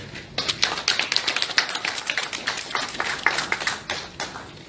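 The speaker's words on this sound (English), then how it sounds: "Can we get a big applause for our minister?" Audience at a ministry event for a passport issuance reform launch clapping for the minister, a dense burst of applause of many hands that holds steady for several seconds with no voices over it.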